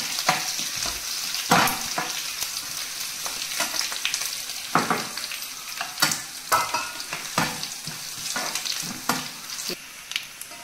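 Crushed raw garlic sizzles steadily in hot tempering oil for a dal, with repeated sharp scrapes and clacks of stirring close by and no talking.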